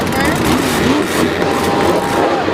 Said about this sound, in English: Somebody starting up your truck